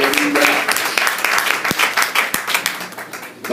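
Church congregation applauding during a pastor's sermon, a loud burst of many hands clapping with sharp individual claps standing out as it thins toward the end, with voices calling out underneath.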